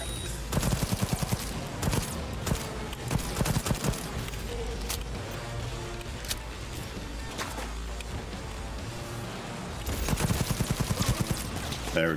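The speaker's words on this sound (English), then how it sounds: "Who the fuck is shooting me, man?" Gunfire in the video game Cyberpunk 2077: repeated rapid bursts of loud, punchy shots in quick rhythmic volleys, starting early and returning near the end, with a steady rumbling game backdrop in between.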